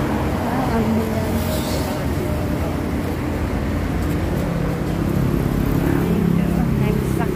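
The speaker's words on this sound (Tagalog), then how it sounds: "Maraming sasakyan na. Maraming sasakyan." Road traffic with many cars passing, a loud continuous roadway roar with engine hum rising and falling as vehicles go by, and people talking over it.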